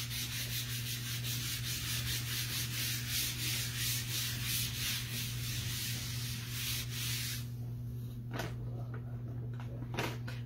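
A wet board eraser rubs transfer paste off a reclaimed pallet board with a steady, close scrubbing sound in repeated strokes, over a constant low background hum.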